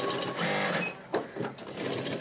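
A tailoring sewing machine stitching piping on a long frock runs in a fast, steady mechanical whir, close and fairly loud, pausing briefly midway before resuming.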